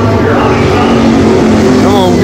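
A dirt track race car engine roars loudly and continuously close by, its rough pitch rising and wavering over a couple of seconds.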